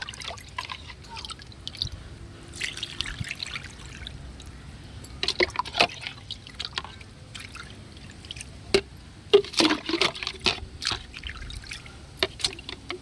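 Liquid fertilizer is poured, about two litres, onto dried potted plants, giving soft irregular trickles and splashes that grow louder and choppier near the end over a quiet background, with no talk.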